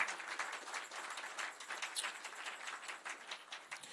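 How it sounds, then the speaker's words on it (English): A church congregation at a Christmas Sunday service applauds. Many hands clap in a steady, dense patter throughout, fairly faint and distant in a large room. "Let's give a round of applause to ourselves."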